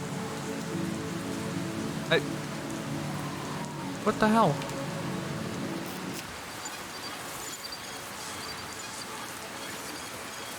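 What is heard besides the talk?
rain ambience from a video game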